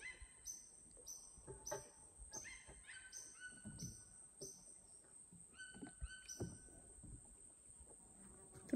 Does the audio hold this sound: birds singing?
yes